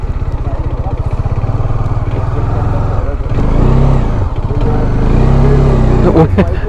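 A motorcycle ridden along the road to Taragarh Fort, its engine droning steadily and loudly throughout with rising and falling revs, close to the rider, with voices underneath.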